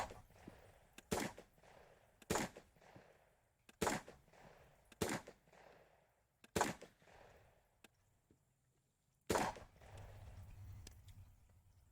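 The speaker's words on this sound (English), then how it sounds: "now that he's done shooting, and we got 6 or so shots here" Gunshots recorded for weapon sound design, about seven sharp, loud reports spaced a second or two apart, each with a short decaying tail, over quiet background and a faint low hum near the end.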